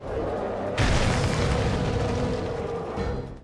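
In Hulk Ultimate Destruction, a thrown generator slams into the ground and detonates with one sudden, heavy boom, followed by a loud rumbling roar that slowly tails off over a few seconds.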